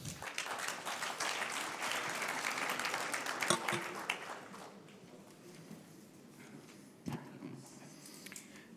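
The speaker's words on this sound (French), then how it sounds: "encore un applaudissement" An audience at a French gathering claps together for a returning guest, loud and sustained for about four seconds before tapering into scattered, fading claps.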